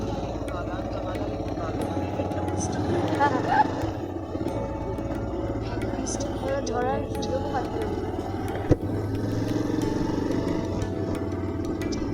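Motorcycle ride carrying three people on the way to an orange orchard, a steady engine drone and road rumble throughout, with voices talking over it.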